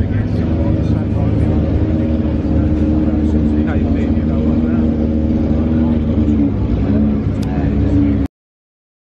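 Loud, close engine roar from a McLaren Can-Am race car in the paddock at the Goodwood Members' Meeting, a sustained rumbling drone with rising revs that cuts off abruptly, while a voice talks over it.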